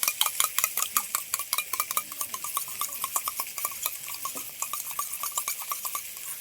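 A whisk or spoon beats sour yogurt in a bowl with quick, rhythmic metallic taps. The strokes are close, steady and continuous, with no talk.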